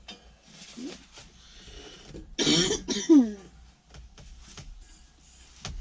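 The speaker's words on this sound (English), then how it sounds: "Really sorry about me keep coughing." A couple of sharp coughs burst out close by, standing out over a quiet, slightly noisy room background inside a narrowboat being fitted out.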